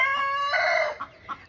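A chicken crows close by in a short, loud burst, followed by a couple of soft clucks from the birds nearby.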